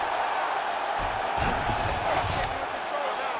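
Arena crowd noise in the UFC 5 fighting game, a steady roar of spectators that swells in the middle of a fight between Chimaev and Silva, with a commentator talking over it.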